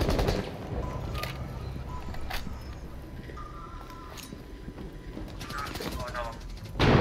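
Gunfire in Rainbow Six Siege, bursts of rapid automatic shots and scattered single cracks mixed with mechanical clatter, under excited gamer chatter.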